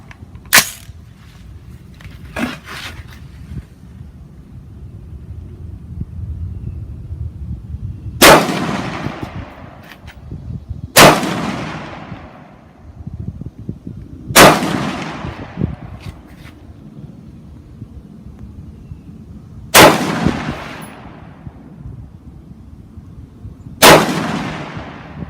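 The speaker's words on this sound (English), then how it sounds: "So we're going to fire 20 rounds out of it." An MK12 MOD1 rifle fires 5.56 mm match ammunition outdoors at a 100-yard range: a few loud, sharp cracks spaced several seconds apart, each followed by a long rolling echo, with quieter handling noise in the gaps.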